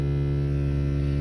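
A persistent electrical hum coming from the glovebox of a BMW E92, a loud steady low drone with strong harmonics that holds constant without any break.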